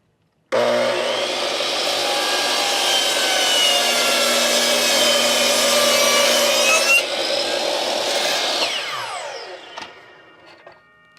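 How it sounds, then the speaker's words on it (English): A miter saw cuts through a wood block clamped against its fence, starting abruptly in a loud, steady whining rasp close by, then spinning down and fading over the last few seconds. "I clamped a block of wood here to the fence of my miter saw so I could cut these exactly the same"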